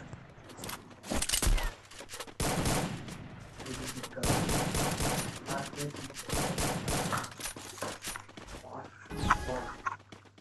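Gunfire in a competitive video game match with sniper rifles, loud overlapping bursts and single cracks, close and repeated throughout, mixed with busy game sounds and a voice talking over them.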